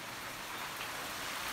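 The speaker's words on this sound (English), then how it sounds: "And it's raining." Steady rain falls outside an open garage, an even hiss of drops on the surface, close and constant with no talk.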